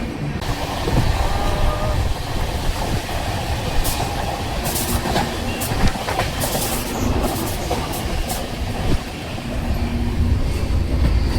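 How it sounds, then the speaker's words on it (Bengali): The 12354 Lal Kuan–Howrah Superfast Express rolls on after leaving Dehri-on-Sone toward Gaya, a loud continuous rumble with rattling carriages and wheel clatter heard from on board, with no talk. "ট্রেন ছেড়ে দিল, এর পরবর্তী স্টেশন গয়া,"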